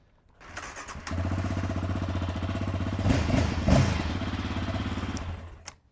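Yamaha Raptor 700R ATV with its stock exhaust cranking and starting, then a lumpy single-cylinder idle with a couple of sharp revs, close and moderately loud before it cuts off.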